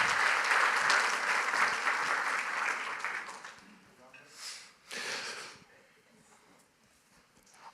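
Audience at a fundraising event giving donors a round of applause, steady dense clapping for about three and a half seconds that fades out, followed by a couple of short bursts and then near silence.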